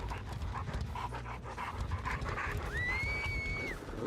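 Quick, steady dog panting from a game dog in Dead by Daylight, close and continuous under a low ambient rumble, with a brief rising electronic tone near the end.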